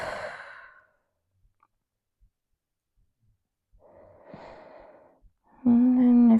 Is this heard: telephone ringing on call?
no